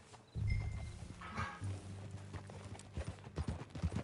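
Horse hooves clop irregularly at close range, a cluster of hollow thuds with low rumbling between them, no talking.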